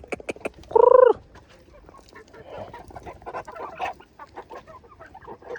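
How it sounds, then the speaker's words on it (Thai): Eight village chickens, four hens and four roosters, are fed raw rice. One sharp, loud squawk rings out up close, then a steady run of softer clucks and pecking sounds follows with no one talking. "ไก่ของเฮารวมทั้งหมด8ตัว"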